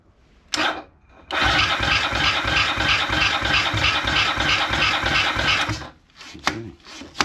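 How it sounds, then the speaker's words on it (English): A Honda CB250RS motorcycle is cranked with the choke on: a click, then several seconds of steady, rhythmic electric starter churning close up before it cuts off, followed by a few sharp clicks. "So the choke is on. Let's give it a go now."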